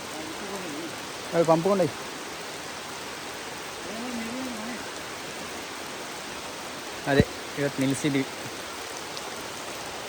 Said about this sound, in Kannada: ಯಾಕಂದರೆ ಮಳೆ ಜೋರು ಬರ್ತಾಯಿದೆ.